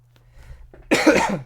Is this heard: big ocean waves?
no